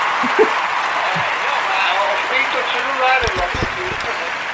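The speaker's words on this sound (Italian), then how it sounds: "allora faccio un applauso a Paolo" Applause during a live-streamed playthrough show of the board game Nevsky, a steady wash of clapping mixed under someone talking, with a few brief knocks near the end.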